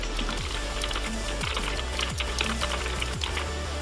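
Steady clacking of keys on a Dell KB216 wired USB multimedia keyboard, typed at a brisk, even pace over a constant low hum.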